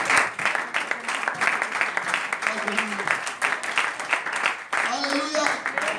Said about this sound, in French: Est-ce que tu peux acclamer le Seigneur ce matin?